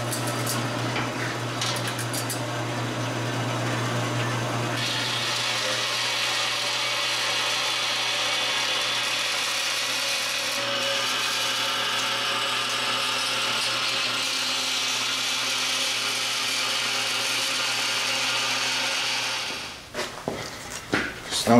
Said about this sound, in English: I gotta cut this poor thing out on this crappy Chinese bandsaw